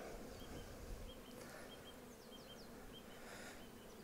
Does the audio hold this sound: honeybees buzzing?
yes